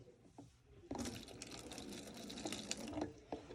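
Vinegar poured into a container for a baking soda volcano, a bright splashing, gurgling pour that starts abruptly after a quiet moment and runs steadily for a few seconds, close up.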